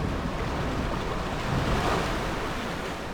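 Rushing water splash from a rapids ride in the theme park building game Planet Coaster, a broad steady wash of surf-like noise swelling slightly midway, with no talk over it.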